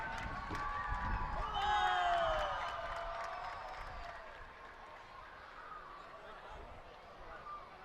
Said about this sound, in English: as they clap her on, the Portuguese in the crowd